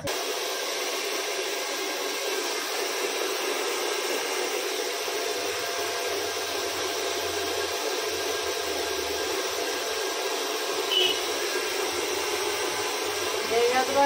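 A hair dryer blows in a steady, continuous hiss during a long-hair U-cut at a beauty salon, with talking underneath.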